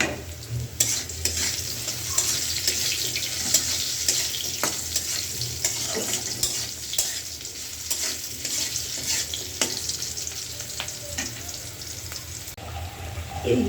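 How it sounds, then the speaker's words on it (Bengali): Potatoes and tomatoes with spices sautéing and being stirred in a pan for a Bengali curry, a steady sizzle with scraping spoon strokes throughout, moderately close, no talking. "মশলা দিয়ে আমি আলু আর টমেটোটা কষাইতে দিলাম"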